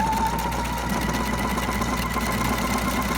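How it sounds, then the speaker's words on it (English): A Pfaff Performance Icon sewing machine sews a stitch through fabric, running at a steady fast pace with a loud, close, even mechanical whir and rhythmic needle chatter, heard alone. "So I'm going to sew that stitch with the fabric running right along that guide"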